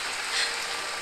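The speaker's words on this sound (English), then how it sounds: "It's raining" Steady, soft rain hiss inside the Honkai: Star Rail video game, a continuous wash of falling water with no distinct drops, quiet and even.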